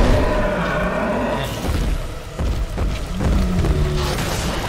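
Grenade launcher explosions in the video game BioShock 2, heavy booming blasts and rumbling roars layered over dense game music and effects, loud and continuous through the short stretch.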